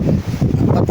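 Strong wind buffets a small fishing boat out on the water, a loud, steady rush with gusty swells throughout the second, no voices present.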